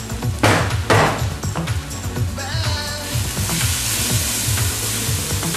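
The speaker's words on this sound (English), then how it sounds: "Now we add our spices." Spices are tipped into onions frying in a hot pot for a Cape Malay lamb curry, a loud steady sizzle with a few clanks of a spoon against the pot.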